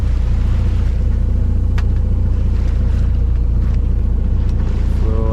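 A sailboat motoring under engine power on a windless sea, its steady low engine drone and water wash constant throughout, with light wind buffeting on the microphone.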